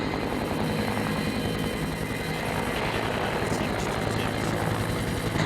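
A logging helicopter lifts logs up through a forest canopy, its rotor and engine producing a loud, continuous roaring thrum that holds steady throughout, close and unbroken.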